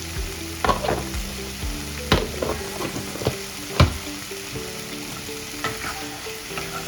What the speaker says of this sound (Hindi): ऐड करने के बाद थोड़ा सा और मैं फ्राई कर लूँगा